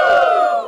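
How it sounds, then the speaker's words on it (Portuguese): Live radio studio audience giving a short, loud collective shout, a single burst lasting under a second that fades out, heard alone without speech. "Quem gosta de ler, dá um grito."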